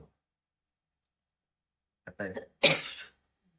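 After a short vocal sound, a single sharp cough bursts out close by, followed by quiet.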